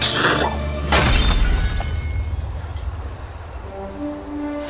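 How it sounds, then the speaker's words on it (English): A lock shatters with one sharp, loud crash at the start and a second burst about a second later, then fading debris and ringing tones that settle into faint sustained notes, set within a fantasy musical score. "That lock shatters."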